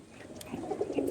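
Madrasi pigeons in a loft give soft, low coos, a short murmuring burst close by amid faint background noise.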